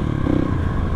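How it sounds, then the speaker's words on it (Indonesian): A dirt bike engine runs through a local aftermarket exhaust, like those for CRF, KLX and WR bikes, giving a close, loud, steady rumbling idle with a bassy tone. "knalpot yang ngejar suara, pengen suaranya ngebas, pengen halus"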